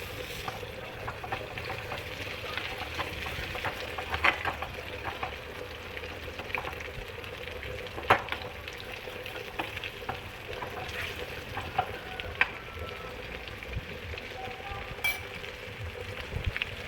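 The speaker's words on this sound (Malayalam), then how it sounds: "ആദ്യം ലെഗ് പീസ് തന്നെ പൊരിക്കാം." Chicken leg pieces fry in a pan of hot oil in a home kitchen, a steady close sizzle with occasional pops and stirring clicks.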